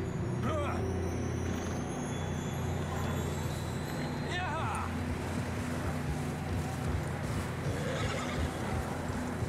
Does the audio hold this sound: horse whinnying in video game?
yes